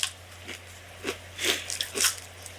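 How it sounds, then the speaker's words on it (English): Quiet, companionable chewing sounds out in a few soft, irregular crunches and bites spaced about half a second apart, close up with no talking. "mostly it's just this, a sort of companionable chewing."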